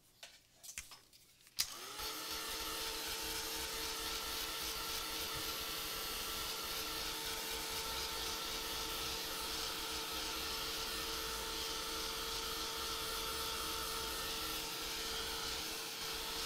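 A hair dryer blows steadily to dry a piece of mixed-media artwork, switching on after a brief rustle and then running as a continuous, fairly loud whirring hum with no talk over it.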